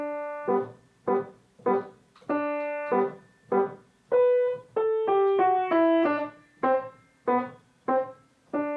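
A simple piano melody played alone, separate clear notes in a steady rhythm with a few quicker runs, close and moderately loud.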